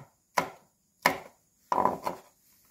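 A knife slices red chili peppers on a cutting board in three crisp taps, the last a quick double cut, close and clear against silence.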